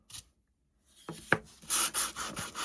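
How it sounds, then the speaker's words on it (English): A finger sander scuffs the paint on small wooden primitive angels in short, rasping bursts of close sanding, separated by brief pauses and getting denser toward the end. "I'm just using my finger sander."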